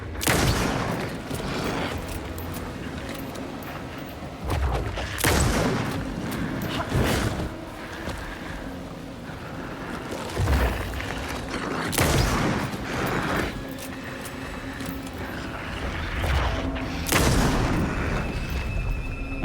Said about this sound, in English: Very easy with the hunting rifle.